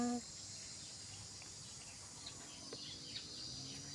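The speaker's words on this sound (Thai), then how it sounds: "ฟังเสียงจักระจันเสียงนกร้องไปด้วยนะคะ" A steady, high insect drone of cicadas fills the rural countryside air where fish is being grilled, with faint scattered bird chirps beneath it.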